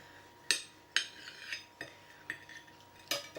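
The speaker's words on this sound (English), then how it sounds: "You need a slightly larger knife, serrated, and just saw through the middle." A serrated knife saws through a Victoria sponge cake in slow, rhythmic strokes, each pass giving a soft, close scraping rasp about twice a second, with no talk.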